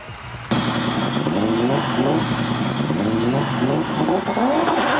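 A Mercedes-Benz 190E toy race car launching from the start at a Hot Wheels bowling event, its engine revving up loudly in rising, repeated sweeps after a sudden onset, close and sustained without talk.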